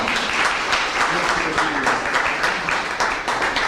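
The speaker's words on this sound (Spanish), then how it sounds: "Pueden aplaudir al presidente, dijo palabras muy lindas." An audience applauds a president at an information session for a national ideas competition, with steady, dense clapping filling the room at an even, sustained level, mixed with faint background voices.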